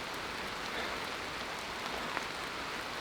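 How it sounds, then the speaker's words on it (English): Steady rain falls in the Hoh Rainforest, a dense continuous hiss of drops on leaves and ground with faint scattered patters, no voices over it. "I'm actually really happy it rained."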